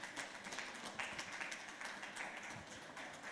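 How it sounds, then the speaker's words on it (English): An audience applauds panel speakers at a career and entrepreneurship summit in the UK. The clapping is faint and steady and sounds distant throughout. "Yes, please keep clapping for them till they get to their seat."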